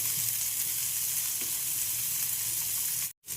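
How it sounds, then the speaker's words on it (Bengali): A generous amount of onion frying in hot oil with whole cumin gives off a steady, even sizzle, close and constant, with a brief dropout near the end. "বেশ খানিকটা পেঁয়াজ দেবো না একটু তো লাল লাল হয়ে যাক"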